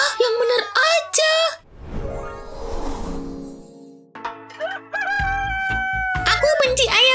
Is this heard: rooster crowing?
yes